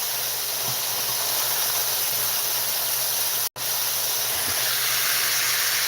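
Spring rolls and veggie dumplings heating in a pan give a steady, loud, close hiss of steam and sizzle that runs almost unbroken, with one brief drop out near the middle.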